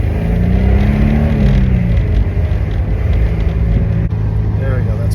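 A K-swapped Honda S2000 running a K24A2 engine cruises along, its steady low engine drone and road rumble filling the cabin with a brief pitch rise early on, and a voice talking over it.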